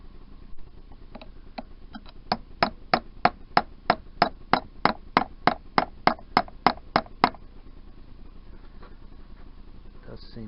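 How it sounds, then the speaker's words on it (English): Hammer blows strike a chisel on the engine parts of a 1988 Yamaha DT125R, about twenty sharp metallic taps in a steady rhythm that start light, grow louder, then stop, heard close with no talk. "strange to lay into engine components with a hammer and chisel."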